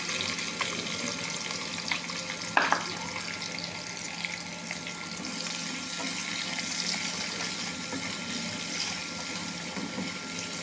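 Onions frying in a pan with meat and cumin give a soft, continuous sizzle at low level, broken by a sharp utensil knock about a third of the way through, with faint background talk.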